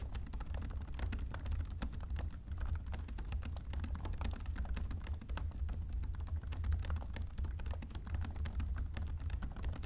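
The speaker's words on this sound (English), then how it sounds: "here you have a little typing test of the keyboard" Quiet, rapid typing on the keyboard of a Lenovo Ideapad 5i Pro 16-inch laptop, a continuous stream of soft, muted key clicks heard close up with no talking.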